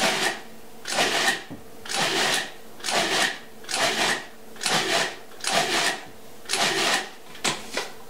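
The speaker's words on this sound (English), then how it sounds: "just pulse it maybe about 8 or 10 times." A food processor pulses tomatillos into a chunky puree in about nine short, loud bursts of whirring blade noise, each roughly half a second long, separated by brief quiet gaps at a fairly regular rhythm.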